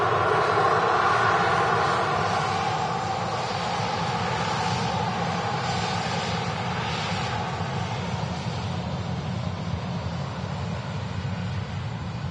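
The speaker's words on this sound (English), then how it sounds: "British registered, Ryanair UK aircraft. Like I said, coming in from Krakow." A Ryanair UK airliner arriving from Krakow at Manchester Airport gives a loud, continuous jet engine roar that holds steady and slowly eases off over several seconds, with no talk.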